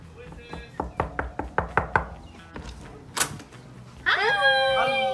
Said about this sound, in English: we're gonna knock on this one, and let's see what they're up to